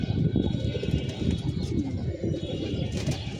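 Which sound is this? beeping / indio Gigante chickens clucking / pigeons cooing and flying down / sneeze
pigeons cooing and flying down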